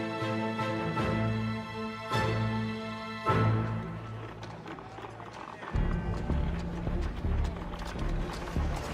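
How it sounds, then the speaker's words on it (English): Horses trot in with a rhythmic clip-clop of hooves at Edison's Pearl Street Station, the clopping continuing steadily under loud ringing tones that fade halfway through. "the horses will come in"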